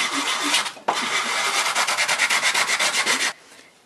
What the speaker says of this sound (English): you have to use some sandpaper.